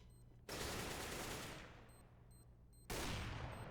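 Two loud AWP sniper rifle shots ring out in Counter-Strike: Global Offensive on the Mirage map, each a sharp crack with a long fading tail, spaced a couple of seconds apart.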